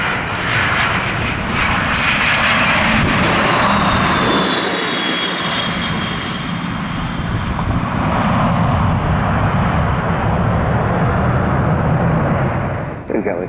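A business jet lands on runway 21 at Scottsdale Airport, its loud, steady engine roar and high whine filling the air close by. Tower radio talk plays over the noise throughout.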